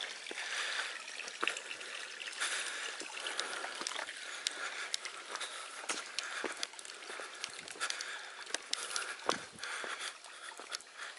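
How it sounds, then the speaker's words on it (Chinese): Water trickling over rocks in a small stream on a hillside hiking trail in Yingge, Taiwan, a soft continuous babble at moderate distance with occasional faint clicks. "水这样流下来。"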